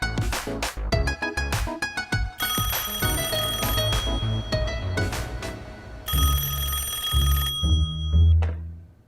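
A telephone rings loudly in a drama scene, with a series of insistent bell-like trills repeating close by, with no voices over it.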